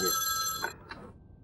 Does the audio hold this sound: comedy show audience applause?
no